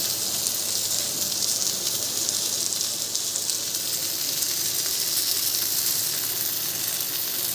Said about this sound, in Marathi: अजून एवढी राहिली दोन वार फ्राय करावं लागेल आता कमी गॅसवर बांगडे इकडे